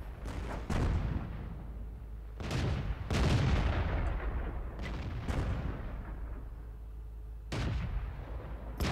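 Tank cannon fire and artillery impacts in the World of Tanks video game, several booming shots at irregular intervals with rumbling echoes between them, loud and close, no talking.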